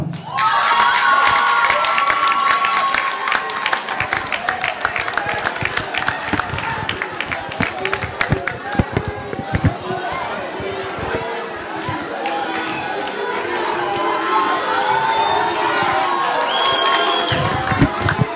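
A crowd at a crowning ceremony bursts into cheers, shouts and applause for the second runner-up, a loud sustained roar with excited voices that eases slightly midway, then swells again.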